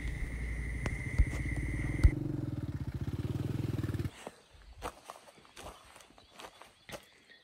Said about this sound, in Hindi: बट हम मोटरसाइकिल पे हैं, हम मैनेज कर लेंगे